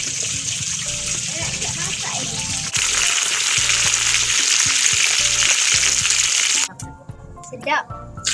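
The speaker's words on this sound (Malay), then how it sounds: "dah sebentar lagi kita goreng dulu ikan." Fish frying in oil in a pan while cooking fish lemak with daun Ajinomoto: a steady, loud sizzle runs almost throughout, with clinks and stirring beneath and a voice talking over it, then the sizzle drops away near the end.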